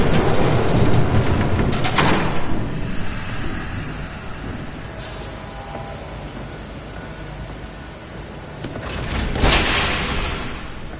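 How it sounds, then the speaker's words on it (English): Train approaching in the Batman Telltale Series video game, a loud rumbling rush with rattling that swells early, eases off, then surges again near the end, with no talk over it. "There's a train coming."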